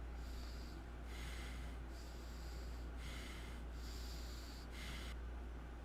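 Nervous breathing comes through on a voicemail in the game Honey Hotline, heard as five sharp, evenly spaced breaths or snorts over a steady low hum, close and fairly quiet, with no words.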